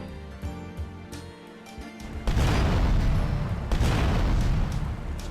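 Grenades blowing up vans in GTA 3 on PC: after a stretch of tonal music, a loud, broad blast erupts and rumbles on, with a second surge a little later.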